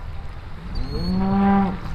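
Cattle beside a road on an overlanding trip along the Oregon Pacific coast let out a single long, drawn-out moo that swells and fades, fairly close, over steady outdoor background noise.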